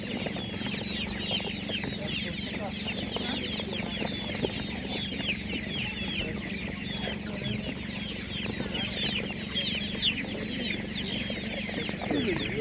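Many chickens cluck and squawk continuously at a Ukrainian livestock market, a dense overlapping chorus alongside a steady low hum, with no clear voices.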